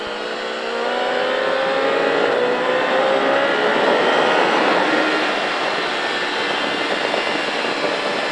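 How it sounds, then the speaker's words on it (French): Motorcycle on the Pau-Arnos race circuit accelerating hard out of a corner, a loud sustained engine roar rising in pitch for several seconds, steady and close. "on fait tourner la moto, on redresse bien avant d'accélérer fort"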